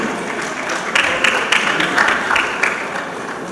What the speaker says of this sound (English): A round of applause for him as he steps forward,